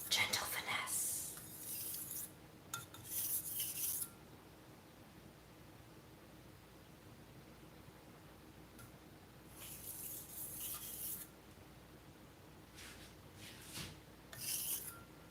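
A knife is stroked across a whetstone in a few gentle, light touch-up passes, soft rasping scrapes coming in short bursts separated by quiet pauses, close and faint.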